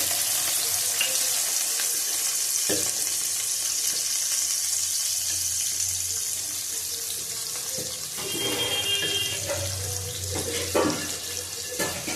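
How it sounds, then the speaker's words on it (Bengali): Potatoes frying in oil in a pan while a Bengali pabda fish curry with fenugreek, nigella seed, eggplant and potato is prepared; a steady, close sizzling hiss with a few clinks and scrapes later on, and no voices. "দেবো আলুটা। ভালো করে ভেজে নেব।"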